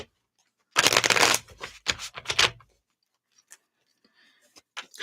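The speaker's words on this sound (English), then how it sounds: "Let's give this a shuffle." Tarot cards are shuffled by hand in a quick, close, crisp riffle, followed by several shorter flutters and soft taps.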